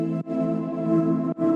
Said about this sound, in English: when you put Portal on it with this Glaciers preset